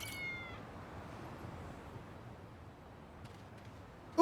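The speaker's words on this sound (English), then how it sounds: "Cats." Cats meowing in the video game Lost Judgment, a short meow near the start over quiet background ambience, with faint clicks later and a brief loud sound at the very end.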